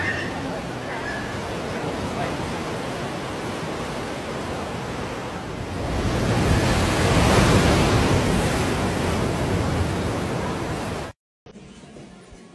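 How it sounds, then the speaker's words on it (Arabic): Calm sea waves at Cap Spartel on the Moroccan coast, a continuous broad surf roar with wind buffeting the microphone, swelling louder midway before cutting off abruptly near the end. "الأمواج يوم تضرب هنا في وقت يكون فيه رياح، اليوم البحر هادي جميلة جدا"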